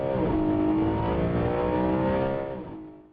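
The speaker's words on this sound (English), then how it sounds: "created the highest revving cross-plane V8 of all time" High-revving cross-plane V8 in a BMW 3 Series revving hard and loud, a steady screaming engine note that holds and then fades at the end.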